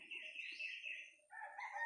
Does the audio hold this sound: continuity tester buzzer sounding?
no